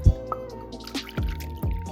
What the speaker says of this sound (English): So I'm adding my first cup